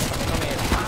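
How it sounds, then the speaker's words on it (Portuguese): Pistol shots from a Counter-Strike style first-person shooter, a quick cluster of sharp cracks over steady game background noise, with no talk. "Um tiro de pistol, dois tiros, né?"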